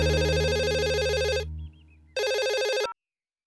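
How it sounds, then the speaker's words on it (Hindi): A telephone ringing in a home: two loud electronic rings in quick succession with a short gap between them, then silence. "जवाहर सूद का फोन है।"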